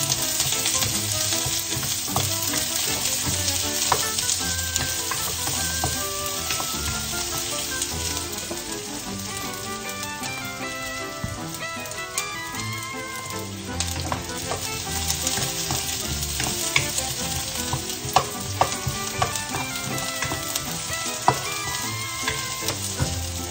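Onion fries in a pan for a coconut-milk squash and crab dish, giving a continuous, even sizzle with fine crackles that stays close and steady throughout, with no voices.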